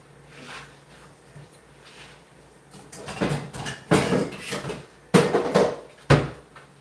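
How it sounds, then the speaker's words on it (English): Metal pot lids and pans clatter and clank during cooking of buttered squash, quiet shuffling at first and then several sharp, loud knocks near the end. "Let me find a lid for this"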